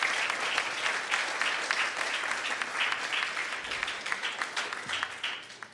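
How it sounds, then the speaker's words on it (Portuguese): Attendees at an economists' week ceremony give sustained applause for the organizing team, a dense crowd of clapping hands with a low background hum, fading slightly near the close. "Eu peço uma salva de palmas para a equipe Corecon."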